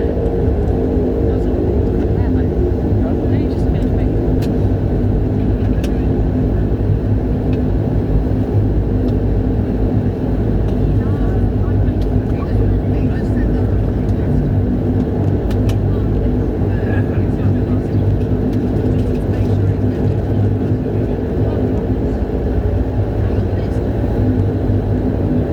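An Icelandair Dash 8 Q200 turboprop taxis after landing at Ísafjörður. A loud, steady engine drone and rumble fills the cabin without a break, with faint rattles and clicks on top.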